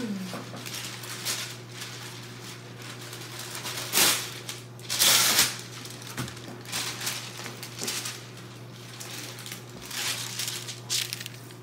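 Parchment paper is pulled out and handled during a craft session, giving bursts of crinkling and rustling, with the loudest crackles near the middle, over a steady low hum.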